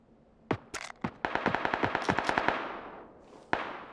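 Rapid bursts of gunfire ring out in the video game PUBG, a quick string of sharp shots followed by a lone final report, loud and close with no talk.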